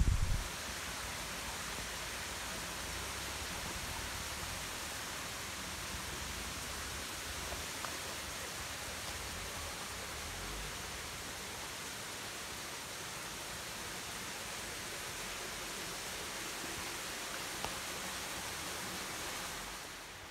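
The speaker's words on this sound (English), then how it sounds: "stream coming off the side here, little cascades with the rock" A small stream cascades over rocks, making a steady soft rushing wash that holds even and unbroken throughout, with no voices.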